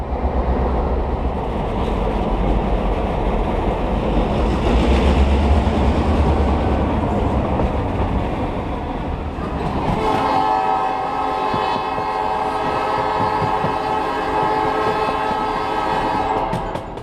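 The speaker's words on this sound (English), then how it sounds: "our passenger train is starting on its way to Two Harbors" A steam-hauled passenger train pulls out of Duluth bound for Two Harbors, a heavy rumble and rolling rail noise building, then a loud, sustained whistle blast sounding close by over the moving cars.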